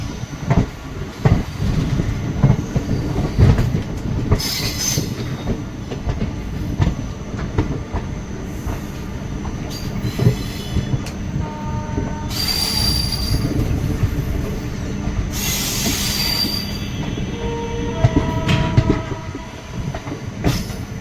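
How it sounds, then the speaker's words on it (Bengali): The Maa Tara Express pulls out of Rampurhat station, its wheels squealing loudly against the rails amid steady rolling rumble, with bright screeching bursts recurring and a brief horn note among the clatter. "ফাইনালি রামপুরহাট স্টেশন থেকে ট্রেন বেরিয়ে যাচ্ছে।"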